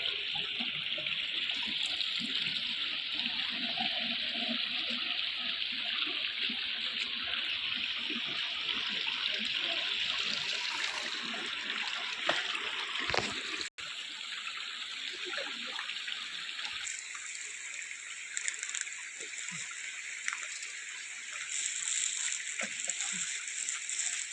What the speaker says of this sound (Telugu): ఎప్పుడు నీళ్లు వస్తూనే ఉంటాయి ఈ కొండ నుంచి